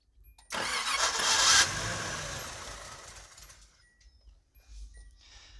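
An old Z car engine cranks with a fast, rough whirring churn for a couple of seconds, tries to catch, then fades off into near silence with a few faint clicks afterward.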